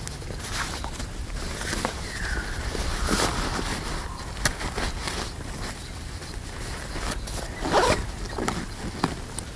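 Zips on a Caribee Ops tactical backpack are pulled open and shut, several quick rasping runs of the zipper teeth close up with fabric rustle and handling knocks between them.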